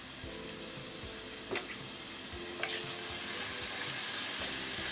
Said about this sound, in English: And I'm going to fry the bacon until it's crispy.